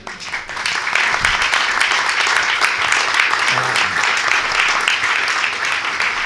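An audience at a spoken performance breaks into sustained applause, loud and dense clapping filling the room for several seconds, with a few voices murmuring underneath.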